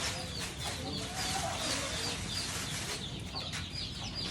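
Newly hatched day-old chicks peeping in a brooder lined with newspaper, a dense, continuous chorus of many high chirps close by, steady and fairly loud throughout.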